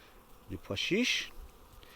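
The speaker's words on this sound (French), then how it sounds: "les abeilles ils tournent autour beaucoup plus du pois chiche" Bees buzzing around a hive feeder holding a mixture of chickpea, thyme and fenugreek; a short, faint, close buzz swells for about a second over quiet background.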